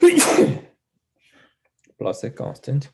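A loud, close sneeze in a differential equations review lecture bursts out at the start, followed by a pause and then someone speaking briefly.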